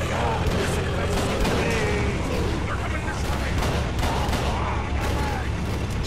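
Gunfire in the video game Call of Cthulhu: Dark Corners of the Earth, repeated sharp shots and booms over dense game noise, with someone talking over the action.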